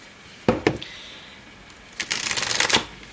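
Tarot cards being shuffled and cut by hand: a few crisp close slaps and flicks, then a quick riffling burst of card shuffling, up close and fairly loud.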